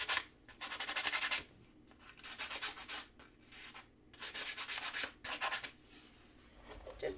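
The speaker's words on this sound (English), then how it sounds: "I'll also hit it with a little bit of sandpaper." Sandpaper is rubbed by hand over a small beveled edge in quick back-and-forth strokes, a soft raspy scratching that comes in bursts with brief pauses, close and fairly quiet with no talking.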